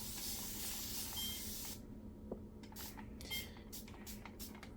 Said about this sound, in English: And then I just give it a spray.